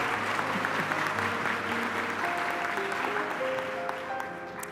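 Audience applause fills a nursing commencement ceremony at Central Lakes College in Brainerd, steady sustained clapping from a large crowd that holds for several seconds before beginning to thin out toward the end.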